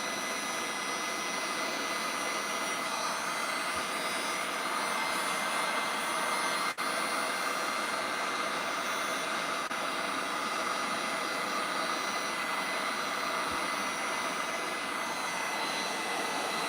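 Heat gun blowing steadily while wood-burning a cutting board, a continuous airy roar with even loudness throughout and a faint click or two, no voices.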